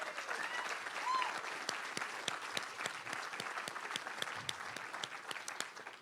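Steady audience applause from a crowd at a community event for a Louisville academy, distant and moderately quiet, continuing evenly with crisp individual claps throughout.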